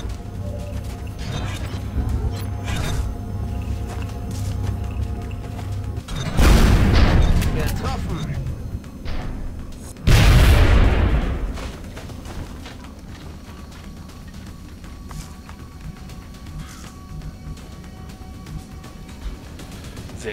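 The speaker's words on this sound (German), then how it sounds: "Sehr schön. Ein Schuss, ein Treffer." Two heavy booming gunshots ring out in the XCOM video game, each a loud blast with a trailing rumble a few seconds apart, over steady game ambience and music while someone speaks German.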